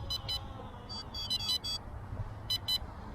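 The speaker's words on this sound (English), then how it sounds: "it's still beeping at me" Clusters of short, high electronic beeps in quick pairs and triplets repeat from an F007 Pro brushless GPS drone over a low engine-like hum and wind noise.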